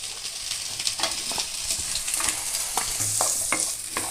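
Onions sautéing in a pan for chana masala, giving a bright continuous sizzle with frequent scraping stirs of a spatula, close and fairly loud, with no talking.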